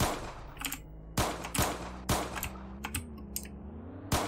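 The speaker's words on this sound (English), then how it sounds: "I hear gunshots." Sharp gunshots from the Roblox game Jailbreak crack out in a loose irregular series, about six distinct bangs over a steady low engine drone, moderately close.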